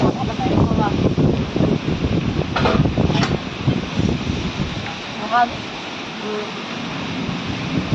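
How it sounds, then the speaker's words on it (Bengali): Strong gusting wind with light rain at a rural home, a loud rushing roar that rises and falls, with a voice speaking over it. "কি হাওয়া উঠছে বাপরে বাপ!"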